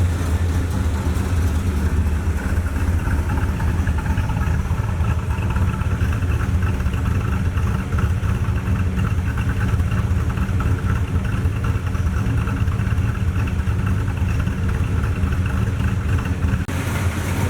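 Engine of an abandoned 1981 Pontiac Trans Am idling with a rowdy, rumbling exhaust, a steady loud low throb that runs without a break.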